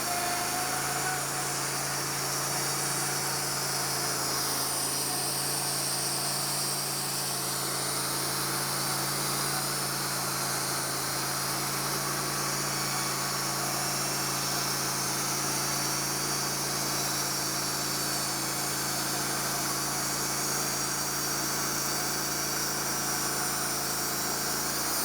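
A saw cuts steadily into a rotten log, giving a continuous loud engine-like drone with a high buzzing edge that holds nearly unchanged throughout, with no talk.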